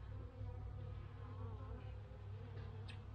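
Honey bees in a winter hive with a nearly full frame of honey fill the air with a steady, dense drone, close and continuous throughout with no voices.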